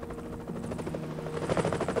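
A helicopter in the video game Evil Genius gives a steady, loud rotor chop with a continuous thrumming whine, alone and unbroken throughout.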